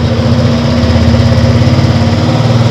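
A Skywave 125 motorcycle engine runs with its throttle opened, giving a loud, close, steady buzzing drone with a fast pulsing beat.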